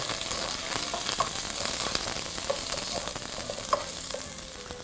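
Sliced onions sweat in a pan over low heat, giving a steady, even sizzle with small crackles and pops throughout and no voices.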